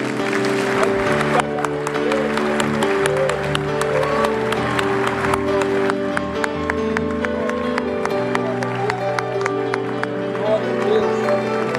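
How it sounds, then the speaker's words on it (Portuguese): Church congregation clapping along during a Lord's Supper celebration service, steady rhythmic claps under sustained music with a voice speaking over it throughout. "Aplauda mesmo, irmão, aplauda mesmo."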